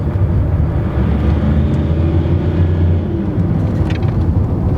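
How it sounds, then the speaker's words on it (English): A Range Rover with an intermittent fault revs hard on kick-down, a loud, close, sustained engine roar with deep low rumble. "Let's give it a kick down"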